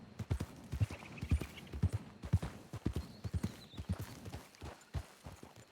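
Horse hooves clip-clop steadily in a Western roleplay video game, the rhythmic clatter of the ride running throughout, with a brief whinny and faint background tones.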